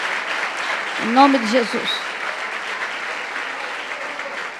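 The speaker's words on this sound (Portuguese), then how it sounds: "Vamos dar uma salva de palmas para Jesus." Applause from a church congregation gathered at a worship service, a steady wash of clapping throughout, with a voice speaking briefly over it near the start.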